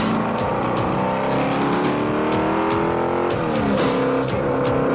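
A car engine drones steadily while driving, a sustained tonal hum with shifting pitch and a brief rise in revs midway, loud and alone with no talking.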